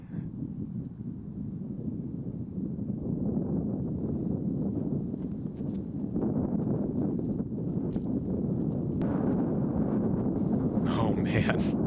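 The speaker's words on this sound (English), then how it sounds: "Oh man, this wind." Steady wind roars and buffets the microphone throughout on an outdoor disc golf course, a continuous low rumble with gusts, and brief voices and thin sounds surface near the end.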